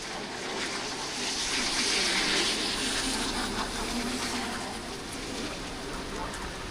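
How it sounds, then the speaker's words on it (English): Steady broadband rush of rainwater, like heavy runoff streaming fast down a street on a windy, wet night in Innisfail, Australia, continuous and fairly close with no voices. "And the water just flows down here like crazy fast."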